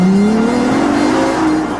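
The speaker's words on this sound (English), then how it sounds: "The sound of 12 cylinders properly arranged in a V" Ferrari LaFerrari with a naturally aspirated V12, the engine revving loud and close in a sustained high-pitched wail whose pitch climbs steadily, with no talking.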